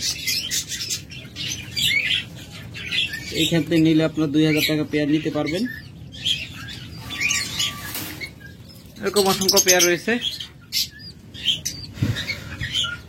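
Caged lovebirds, cockatiels and budgerigars chirp and tweet in scattered bursts close by, while someone talks over them almost continuously.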